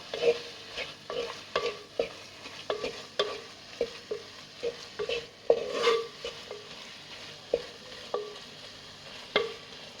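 A spoon stirs spice masala in a hot pan while it roasts for a Coimbatore-style spicy brinjal tamarind curry. Repeated scraping and tapping strokes come at a quick irregular pace over a soft sizzle, close by and with no talk.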